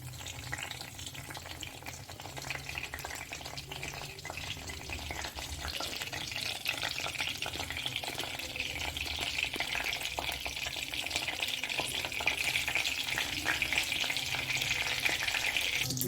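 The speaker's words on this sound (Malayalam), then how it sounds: "കടുക് പൊട്ടിക്കൊണ്ടിരിക്കുകയാണ്." Mustard seeds splutter in hot oil with dried red chillies and homegrown curry leaves for an okra stir-fry, a constant crackling hiss of fine pops that grows slightly louder over time, with no talk.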